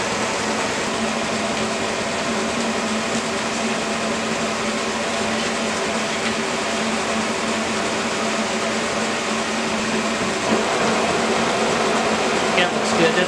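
K&T metal shaper running a slab mill at slow speed, a steady continuous mechanical whir and hum with a faint rise in intensity near the end.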